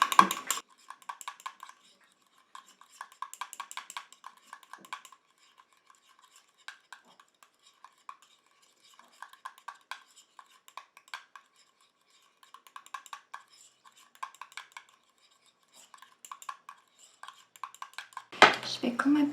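A spoon or small whisk mixes a homemade carrot face cream in a bowl, giving light, quick clinking and scraping taps in irregular bursts with quiet gaps, close and faint, ending in a louder rustle.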